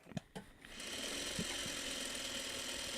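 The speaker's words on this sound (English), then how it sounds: "I'm sewing these crumbs together." A sewing machine stitches fabric crumbs together, starting with a few separate clicks before settling into a steady, fast mechanical whir that runs close and continuous to the end.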